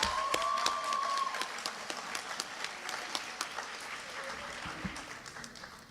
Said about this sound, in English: Let's give a nice round of applause for class of 2025.